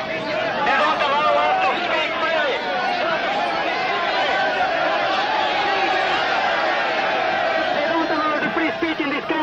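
Chatter from a large crowd at an environmental protest, a dense and steady babble of many overlapping voices with occasional raised shouts, close and loud throughout.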